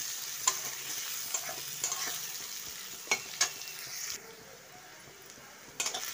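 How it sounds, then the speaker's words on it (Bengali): Chopped onion and green chili frying in a pan give a steady quiet sizzle, broken by a few sharp scraping stirs with a spoon against the pan, with no talk. "পেঁয়াজটা আমি একটু ভেজে নেব"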